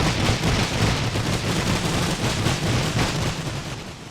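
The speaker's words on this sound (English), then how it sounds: "constant barrage of fire here" Dense, unrelenting machine-gun fire in a World War I strategy game mod, a loud continuous barrage of overlapping rapid shots with no pauses for the whole stretch.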